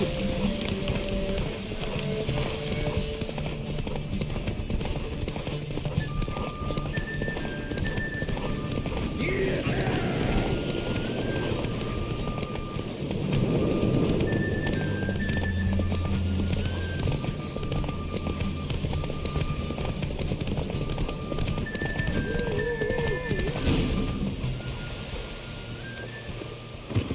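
Horses gallop in a race in The Witcher 3, with steady rapid hoofbeats running throughout, set among game music and ambient noise and joined by voices talking over the run.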